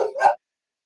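A dog gives a single short, close bark with a quick double onset, followed by silence.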